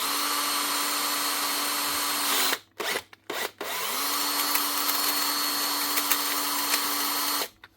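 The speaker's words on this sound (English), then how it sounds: "So the motor's running, chuck's not turning." An old Hitachi cordless drill with a slipping gearbox runs its motor in a loud, steady whine while the chuck stays still. The whine breaks off briefly in a few quick stops and restarts, then runs on again.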